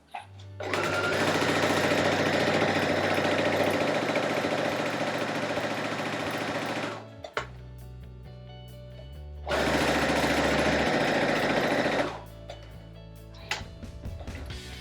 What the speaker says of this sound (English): Put the presser foot down. Fold the fabric nice and even and sew.